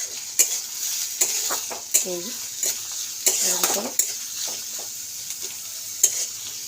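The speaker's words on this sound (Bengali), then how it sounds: "তো পেঁয়াজটা একটু হালকা ভাজা হোক।" Onion frying lightly in butter and refined oil while being stirred, a soft sizzle under repeated scraping and clinks of a spatula against the pan, with a voice talking over it.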